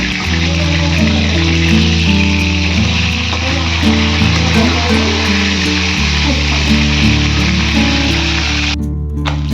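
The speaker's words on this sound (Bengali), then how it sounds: "মাছগুলো আমি ভাজতে দিয়েছি" Tilapia fish frying in a pan, a continuous loud hissing sizzle heard close up for the whole stretch with a low steady hum underneath and no speech.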